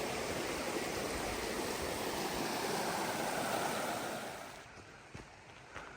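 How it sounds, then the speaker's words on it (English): Flat Laurel Creek rushes steadily along a Blue Ridge Parkway hiking trail in North Carolina, a broad, close wash of flowing water that eases off near the end, with a few light knocks. "we made it to what I believe is Flat Laurel Creek, which we're gonna have to make our way across"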